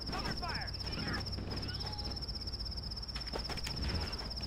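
Crickets in Halo CE chirp in a fast, steady high trill running throughout, with other game noises and someone talking faintly in the background.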